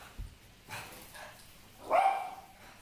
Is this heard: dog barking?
yes